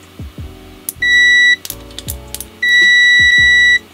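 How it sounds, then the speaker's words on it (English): An Aneng multimeter's continuity buzzer sounds two loud steady electronic beeps, one short and one longer, amid light clicks and tapping of probes, close up with no talk. "let's do our good old buzzer test."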